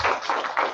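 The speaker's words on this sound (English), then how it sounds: "let's clap it up for Mordecai" A congregation at a Purim feast claps briefly, a quick, dense burst of hand claps, close and fairly loud.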